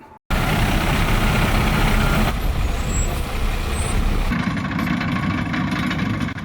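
A heavy-duty solid waste truck's diesel engine runs loud and close, a steady deep rumble that shifts in tone partway through, with no voices over it.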